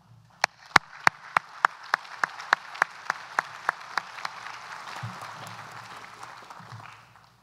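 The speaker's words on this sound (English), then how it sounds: "please give me a round of applause for Dr. Mahidvan." Scattered slow hand claps ring out sharply in a lecture hall after the introduction of a speaker at an artificial intelligence talk, a dozen or so distinct claps thinning out and fading into room noise.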